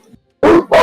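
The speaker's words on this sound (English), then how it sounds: "Excuse me, the dogs are barking." Dogs bark twice in quick succession, loud and close, after a brief faint sound, with no talking.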